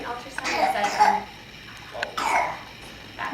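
A person coughs in two short bursts, a hoarse cough followed by a second rough cough after a pause, close and fairly loud.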